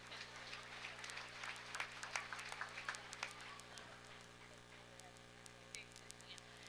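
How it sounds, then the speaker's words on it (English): Crowd at a county fair breeding beef show claps in scattered, moderately distant applause over a steady electrical hum, tapering off toward the end. "Let's give her one more round of applause for that."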